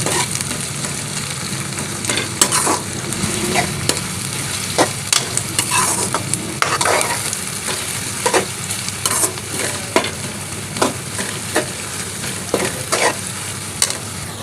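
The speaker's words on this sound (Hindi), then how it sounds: "स्लाइस में कटी हुई प्याज ऐड करके इसको मिक्स कर लेंगे।" Sliced onions sizzle and fry in a pan, softening rather than browning, with a steady crackling hiss and repeated sharp scraping knocks of a spoon stirring them, close and fairly loud, no talking.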